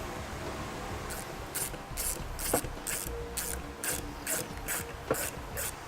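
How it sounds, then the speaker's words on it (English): A hand ratchet driving Torx screws back into a truck light housing during a wiring kit install on a 2017 GMC, a regular series of quick clicking ratchet strokes, close and alone. "we can reinstall our Torx screws"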